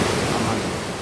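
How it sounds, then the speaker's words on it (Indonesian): A flash flood in a Lebak, Banten village roars past, carrying wood, mud and building debris, heard as a dense, continuous rush of water that stays loud and close for a brief moment. "Derasnya arus banjir yang membawa material kayu, lumpur hingga puing bangunan merusak rumah warga"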